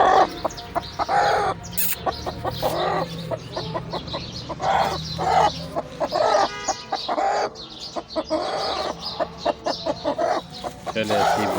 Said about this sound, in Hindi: बहुत प्यारी मुर्गी है।